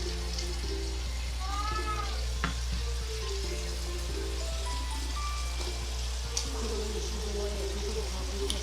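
Skewers of chicken skin sizzle steadily on a grill, with a constant crackling hiss and occasional pops, close and continuous, no talking heard.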